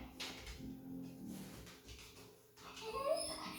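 A pet dog whimpers and yips faintly indoors, a few short, high, thin whines coming in broken bursts over quiet room noise, with no speech.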